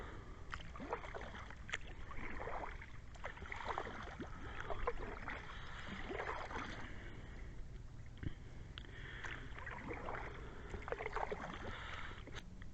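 Soft kayak paddle strokes dip and swirl on a calm river at night, a faint, steady rhythm of water splashes repeating close by with no talking.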